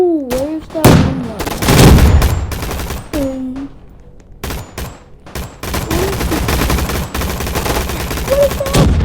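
Bursts of video game gunfire in an arena shooter, a shotgun among them, crack out in scattered rapid clusters across the whole span, loud and close, mixed with other game sound effects and a brief voice.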